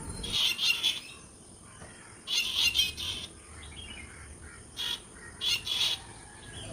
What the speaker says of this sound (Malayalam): പലവിധം നമ്മൾ കാണാത്ത തരം പക്ഷികളൊക്കെ ഉണ്ട്